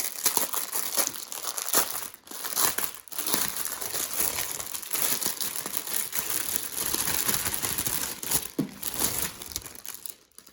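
A crinkly plastic packet of square diamond-painting rhinestones is torn and opened, giving continuous close crackling and crumpling with brief pauses, no voices.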